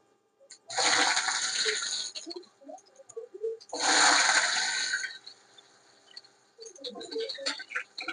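Cumin seeds and then potatoes drop into hot oil, setting off two loud bursts of sizzling hiss, each fading to a lighter crackle, with more popping spatter near the end.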